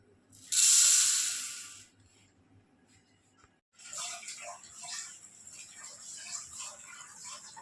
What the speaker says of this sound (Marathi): आता मी टोप घेतलेला आहे टोपामध्ये डाळ टाकते